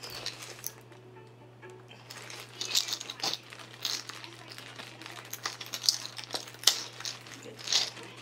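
Plastic packaging around a laptop keyboard being crinkled and pulled open, giving soft irregular rustles and crackles close by over a low steady hum, without speech.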